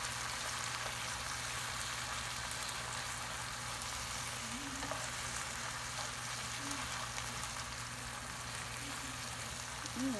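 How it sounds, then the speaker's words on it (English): Sweet potato leaves sautéing in a pan with onions and garlic, an even hissing sizzle that holds steady and fairly quiet for the whole stretch, with a faint tonal squeak near the end and no voices. "We're going to mix them in with our onions and our garlic."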